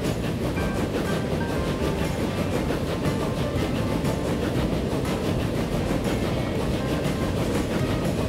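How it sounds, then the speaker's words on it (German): Trains rolling and switching tracks in the railway simulation game Transport Fever, heard as a loud, continuous rumble of wheels with faint rhythmic clatter and no talking. "Zug 7 wechselt über aufs richtige Gleis"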